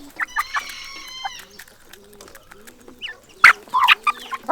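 Chickens on a farm cluck in short bursts while a rooster crows nearby, the calls rising and falling loud and close over a quiet yard.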